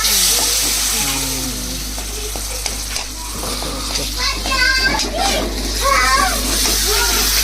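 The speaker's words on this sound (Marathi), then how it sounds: "आता बघा तळून घेते मसाला" Ground black masala paste fries in hot oil in a pan, a constant close sizzle with bubbling as someone talks over it.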